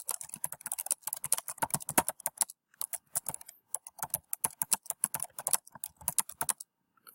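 Fingers type in quick irregular bursts on a computer keyboard, clear and close, with short pauses between runs of keystrokes and no talking.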